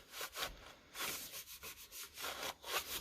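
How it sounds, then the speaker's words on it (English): Hands burnishing a folded paper card portfolio: soft, close rubbing and swishing strokes in an uneven back-and-forth rhythm, faint and alone. "I'll flip it over and burnish it from the inside with my hands"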